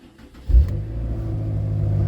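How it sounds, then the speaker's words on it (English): A BMW X6M with an electrical fault starts up: a brief crank, then the engine catches with a loud low burst and settles into a steady, close rumbling idle. "So the car actually will start."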